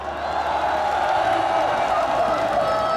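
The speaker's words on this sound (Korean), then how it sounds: "세월호 유가족들에게 힘찬 박수와 함성 부탁드리겠습니다" Dense crowd applause and cheering at an outdoor Sewol ferry families rally march in Korea, a steady loud wash of clapping and shouting voices blended together for the whole stretch.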